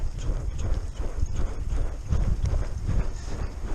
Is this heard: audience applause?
no